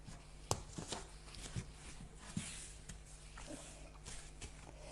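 A deck of tarot cards being shuffled for a reading, soft close riffling and sliding with intermittent taps and flicks, quiet and irregular over a faint room background.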